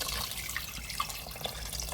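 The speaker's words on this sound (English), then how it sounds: "Fill it up with water." Tap water runs steadily into a cooking pot being filled for homemade chicken stock, a soft continuous hiss with a few faint drips and splashes, quiet and close, with no talking.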